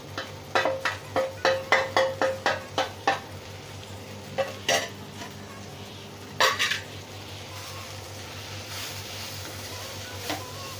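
Mushroom stuffing with pepper powder mixed by spoon, a quick run of close, rhythmic spoon knocks against the pan, then a few scattered clinks over a low steady hum.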